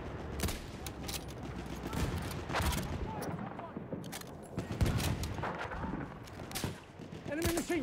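Bursts of enemy machine-gun fire ring out across a Battlefield 1 battlefield, rattling in repeated volleys mixed with other gunshots and explosions, with voices calling out over the din.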